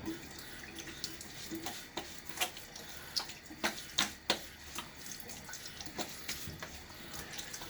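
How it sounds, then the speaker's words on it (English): Tap water runs steadily at low level while a Gillette Aristocrat safety razor is rinsed mid-shave, with soft splashes and a few sharper drips and taps scattered through the flow. "a little half rinse here"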